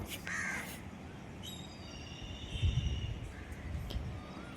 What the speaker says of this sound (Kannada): ಮರಗಳಿಲ್ಲ ಅಂದರೂ ಪಕ್ಷಿಗಳ ಸೌಂಡ್ ಮಾತ್ರ ತುಂಬ ಜೋರಾಗಿತ್ತು.